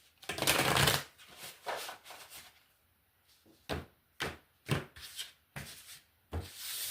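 Tarot cards being shuffled by hand: a long riffling burst up close, then a string of short, crisp card slaps and rustles at irregular intervals, with no voices.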